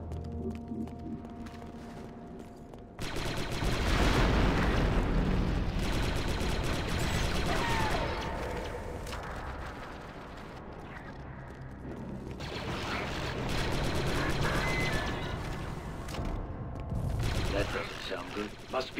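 Muffled bursts of automatic gunfire rattle on and off in the background of the Star Wars video game Republic Commando, rising and fading in loudness while voices talk over them.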